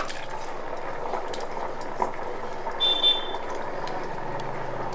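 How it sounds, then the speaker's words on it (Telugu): Water heats toward a boil in a cooking pot on a home stove, giving a faint, steady bubbling hiss with one brief high beep partway through. "ఇదిగోండి నీళ్ళైతే హీట్ ఎక్కుతున్నాయి, ఇంకా మరుగుతున్నాయి కదా."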